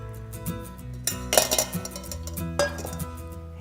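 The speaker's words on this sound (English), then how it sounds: "we're just going to go ahead and dump our noodles in there" Spaghetti noodles tipped into a pan of meatball sauce, giving a clatter of pan and utensil knocks with a burst of clinking and scraping near the middle and a second clatter toward the end, close and fairly quiet.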